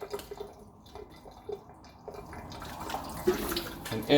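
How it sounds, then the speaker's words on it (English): Water draining out of a marine aquarium phosphate reactor, with scattered drips and splashes and a light trickle building toward the end, fairly close and moderately quiet. "So we need to, first of all, drain all the water out."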